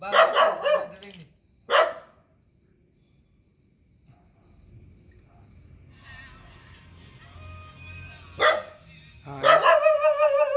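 A dog-bark ringtone plays several times through a phone speaker, sharp bursts of barking with quiet gaps between them and faint background noise.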